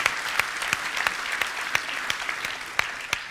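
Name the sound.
audience applause at a keynote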